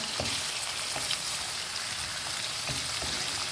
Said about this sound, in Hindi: अब हम इनको थोड़ा सा तेज़ आंच पे भूनेंगे